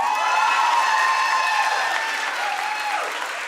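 Steady, dense clapping and cheering from an audience fill the moment, holding fairly level with a slight fade toward the end.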